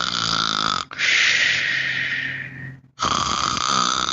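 A voice imitates the deep, slow breathing of someone drifting into sleep, with a long loud breathy inhale-exhale like a snore, set between stretches of voiced humming sounds, close and alone.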